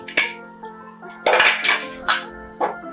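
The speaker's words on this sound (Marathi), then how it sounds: "कुकर आता थंड झाला आहे. आपण आता खोलून बघूया डाळ शिजली आहे का." Metal clinks and clatters close up as the lid of a pressure cooker is worked open after cooking mung dal, a few sharp knocks of steel against steel over a faint steady hum.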